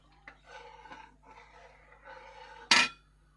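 A spoon scrapes and rubs repeatedly around a pot as milk curdled with sour yogurt is stirred to make chhana, a quiet rhythmic rasping that ends in one sharp metallic clank.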